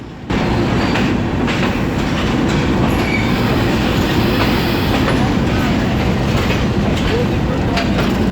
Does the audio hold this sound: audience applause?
no